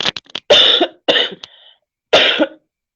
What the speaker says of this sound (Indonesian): saya batuk